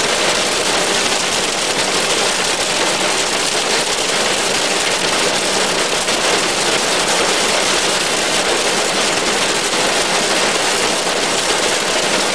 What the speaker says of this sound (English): It's actually only just really hailing.